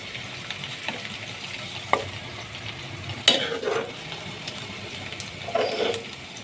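Softened onions fry in a pan for a ridge gourd curry, a low steady sizzle broken by a few sharp scrapes and clinks of a spoon stirring and lifting them out.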